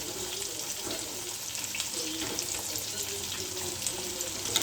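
Home-style KFC fried chicken pieces bubble and crackle in hot oil, a steady dense sizzle at moderate volume throughout.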